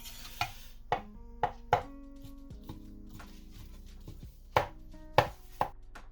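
A knife dices soaked dried mushrooms on a cutting board while Chinese turnip cake is being prepared, giving sharp, separate chops in irregular groups over a quiet low hum.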